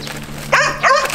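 Two short barks from dogs at a large rescue shelter housing about 300 dogs, close and fairly loud, ringing out over a steady low hum with no talking.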